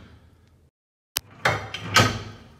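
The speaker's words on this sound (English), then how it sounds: "this is a blast proof door" A heavy blast-proof door in a doomsday prepper bunker starts with a sharp latch click, then slides with two rumbling metallic scrapes that rise loud and close.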